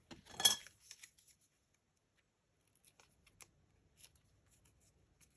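Scissors cutting paper for a scrapbook layout, with one short, crisp snip up front followed by faint scattered clicks and paper rustles in quiet surroundings.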